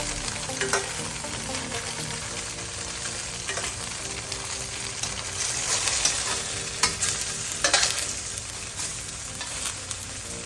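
Tofu pieces fry golden and crisp in a pan for a mushroom tofu stir fry, a steady broadband sizzle running throughout with occasional stirring scrapes and small bursts, close and continuous with no talking.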